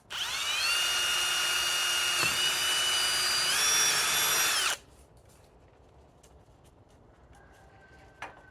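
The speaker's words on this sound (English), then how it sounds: "Try and drill through the center of the tube." A power drill bores through the center of a tube while a garden bean trellis is rebuilt, a loud, whining motor for about five seconds that rises slightly in pitch, then stops, leaving quiet outdoor ambience with a faint bird call and a small knock.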